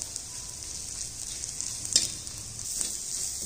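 Green chilies and peas stir-fried in a pan over medium heat, giving a steady hissing sizzle with a couple of brief clinks or stirring knocks.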